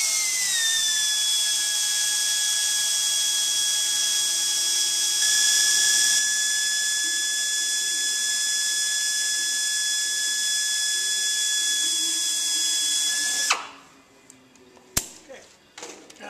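A power tool cutting metal while working on an aircraft cowling gives a loud, steady, high-pitched whine for about thirteen seconds, then stops abruptly, leaving a few faint clanks.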